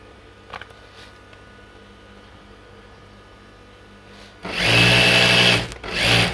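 A sewing machine stitches the seam of a churidar pant along a marked line, starting after a quiet stretch as a loud, fast, buzzing run of stitches close by that pauses briefly and then resumes.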